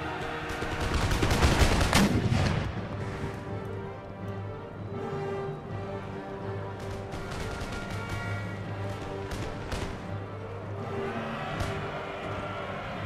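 Musket volleys from line infantry in Empire Total War: a loud ragged burst of massed firing at the start, then scattered sharp cracks over ongoing battle music and noise.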